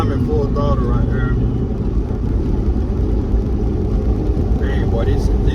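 A heavy, constant low engine roar and road rumble fill the cabin of a turbocharged Chevy Tahoe on a base tune running at full throttle, loud and unbroken from start to finish.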